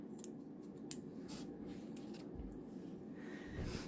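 Scissors cut yarn to bind off a finger-knitted scarf: a few faint, quiet snips and small rustles close by, with no talking.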